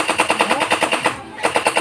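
A toy gun fires in a fast, even burst of rattling shots, briefly pausing before the rapid clatter resumes.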